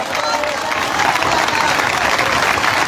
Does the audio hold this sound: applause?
yes